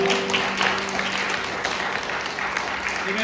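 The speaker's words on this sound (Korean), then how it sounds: "박수로 환영하겠습니다" A church congregation applauds to welcome a first-time visitor at a Sunday worship service, with moderate, even clapping and a low steady hum underneath.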